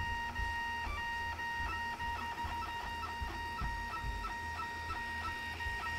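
A 3D printer runs steadily, its stepper motors whining and buzzing in shifting tones as the print head moves back and forth, a soft continuous mechanical hum with no voices.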